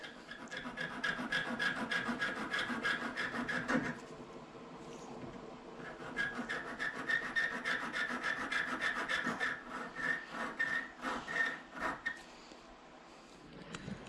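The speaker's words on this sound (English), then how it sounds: "We're gonna do some precision filing right here." A copper ring undergoes precision hand filing, with rapid rasping strokes in steady close bursts, a short pause, then more brisk filing that slows toward the end.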